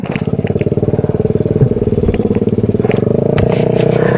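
Automatic scooter motorcycle riding an extreme hill trail to a waterfall, its engine droning loud and close with a steady rapid pulsing throb and faint rattling clatter throughout.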